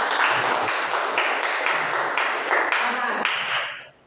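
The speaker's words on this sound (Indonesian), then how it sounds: "Tepuk tangan dulu" Classmates clap for group 1 during a school lesson: a loud, close burst of many hands clapping together, fairly fast and even, lasting several seconds before fading out abruptly.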